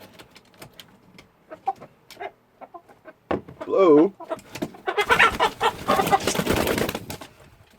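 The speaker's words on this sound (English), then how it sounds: "my chickens being bad behind me" Chickens cluck and squawk nearby in scattered bursts, building into a louder flurry of agitated cackling, with a brief spoken word among them.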